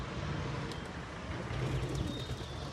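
Pigeons coo softly amid steady outdoor background noise from a rooftop loft where newly flown birds gather to feed, the low murmuring calls continuous and fairly faint.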